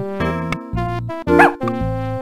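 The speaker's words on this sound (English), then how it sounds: "Oh, a puppy!" A puppy in the MS-DOS game Fatty Bear's Birthday Surprise gives a run of synthesized yips and barks with a whimpering rise, close and loud, with short gaps between calls.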